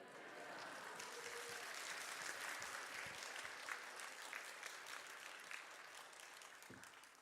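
Church congregation at a Sunday afternoon service clapping vigorously to welcome a missionary to the front, a continuous, even roar of many hands filling the room, sustained for several seconds and tapering slightly at the end.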